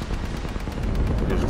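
Rapid video game gunfire rattles in a quick run of shots at steady intervals, loud and near, over a noisy backdrop.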